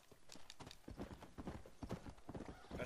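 Hoofbeats of a horse in Red Dead Redemption clatter in a fast, uneven clip-clop rhythm, fairly close and dominant, with little else over them.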